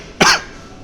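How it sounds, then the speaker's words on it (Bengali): A single sharp, harsh cough bursts out close by, lasting a fraction of a second before fading into quiet room noise, from a person at a street food stall in Dhaka. "আমার এমনি কাশি, গরম পানি খাইলেও কমবো না।"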